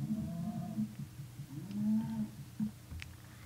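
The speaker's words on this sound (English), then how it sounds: "Oi, fuck you, cow." A Minecraft cow lets out several drawn-out, low moos in succession, close and clear, with no talking over them.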